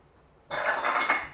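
A chain binder or chain ratchet is worked to secure a strap winder: after a brief hush, a close, loud burst of metallic rattling and clicking runs for about a second.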